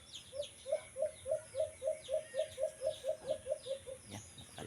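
A bird calls loudly in a steady series of about fifteen rhythmic, evenly spaced notes, with faint outdoor ambience behind.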